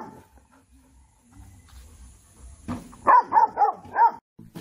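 A few short barks from a dog, four or five in quick succession, fairly loud and close, after a quiet stretch.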